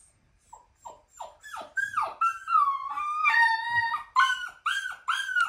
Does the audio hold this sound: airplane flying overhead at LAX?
no